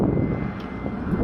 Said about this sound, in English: There's planes going by.